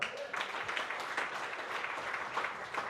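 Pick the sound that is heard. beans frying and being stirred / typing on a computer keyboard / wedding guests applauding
wedding guests applauding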